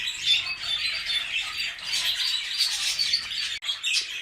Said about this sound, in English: English budgies, and canaries, and then we also have a couple of hybrid parakeet budgies